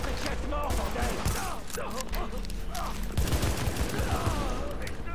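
Dense gunfire in The Division video game: rapid overlapping shots and bursts from several weapons, loud and close, sustained throughout with heavy low thumps in the second half.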